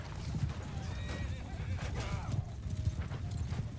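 Horses whinny and hooves clatter amid a Mount & Blade II: Bannerlord battle, neighs rising repeatedly over a dense, steady rumble of galloping and combat noise.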